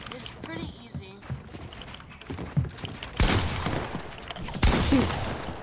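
Gunfire crackles in Fortnite in scattered shots and then denser bursts of rapid fire, loud and close, while players talk excitedly over it.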